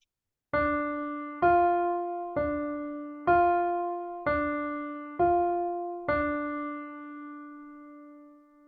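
A slow single-line piano melody of seven evenly spaced notes played with the right hand only, each struck clearly and left ringing, with the last note sustaining and fading out.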